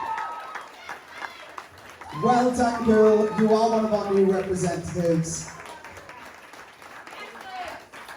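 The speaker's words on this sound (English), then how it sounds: "Round of applause for Lacey" Audience applause at the grand finale results of a Welsh talent show, a broad wash of clapping and crowd noise running steadily beneath a presenter's voice that dominates the middle of the clip.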